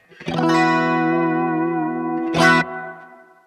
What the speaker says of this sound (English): the final knob is my reverb mix